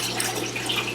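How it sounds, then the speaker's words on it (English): Tap water runs steadily into an aquarium sump in a basement fish room, a continuous broadband hiss and splash that carries on evenly throughout, close by, with no talking. "it's just adding water to the sump"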